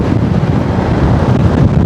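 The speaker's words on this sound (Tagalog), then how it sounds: "Kaso lang, lakas ng hangin, no? Grabe." Strong wind buffets the microphone in a continuous loud roar, with no pauses or voices.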